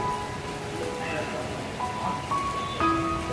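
Steady rain from Typhoon Ulysses falls in a continuous hiss, with a few faint tonal sounds drifting through the background.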